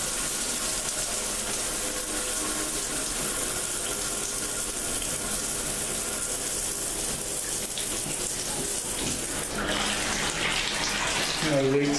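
Water sprays steadily from a shower head in a bathroom, a continuous close hiss and splatter lasting the whole stretch, with a voice speaking faintly beneath it.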